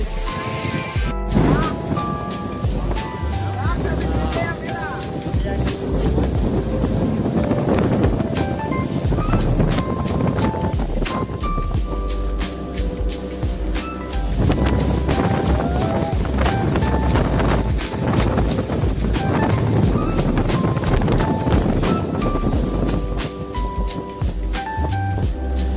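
A boat ride on the open sea off Bhavnagar: a continuous engine drone and wind buffeting with washing waves, loud and close throughout, overlaid by tonal music.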